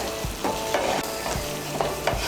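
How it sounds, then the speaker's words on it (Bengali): Chicken bharta with fresh cream stirred over high heat, a spoon scraping through the thick mixture in a few strokes over a steady sizzle, close and alone. "মিশিয়ে নিয়ে আঁচটাকে বাড়িয়ে আরও একটু নাড়াচাড়া করে নেব"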